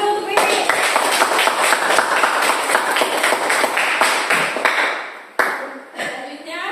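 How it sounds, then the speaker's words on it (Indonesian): A classroom of students claps together for a short round during a chemistry lesson, loud and dense for about five seconds, then tapering off with a few last scattered claps. "beri tepuk tangan dulu untuk ini"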